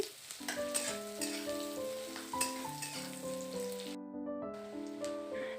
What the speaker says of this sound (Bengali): পেঁয়াজটা হালকা করে ভেজে নিয়েছি এবার দিয়ে দিচ্ছি কেটে রাখা দুটো কাঁচা লঙ্কা কাঁচা লঙ্কাটা দিয়েও আবারও একটু নাড়ি চাড়িয়ে নিচ্ছি